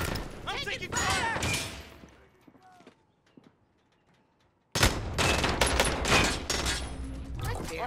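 Gunfire in a Call of Duty match, loud bursts of rapid shots at the start, a quiet gap with faint distant sounds, then another dense barrage of close automatic fire, with voices speaking amid the shooting.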